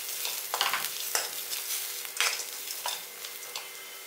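Peanuts with turmeric powder being stirred and sautéed in a pan, a steady soft sizzle broken by repeated scraping strokes of the spoon, close and alone with no talking.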